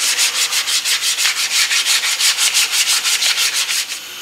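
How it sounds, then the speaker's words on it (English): A wooden electric guitar body, stripped of paint, has its edges sanded with 180 grit sandpaper in steady, rhythmic back-and-forth strokes, loud and close, about eight strokes per two seconds with no voices. "I'm going to go ahead and take some 180 grit and I'm going to go ahead and sand those edges down"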